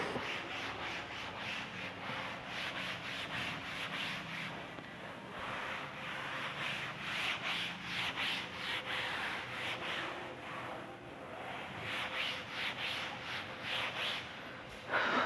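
Steady rhythmic rubbing as a duster wipes writing off a classroom board, repeated back-and-forth scrubbing strokes, close and moderately loud, with no talking.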